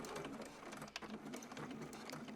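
A home sewing machine back-stitches through a zipper bag made from a single fat quarter, running as a steady close mechanical whir with a quick stitch rhythm and one brief hitch near the middle.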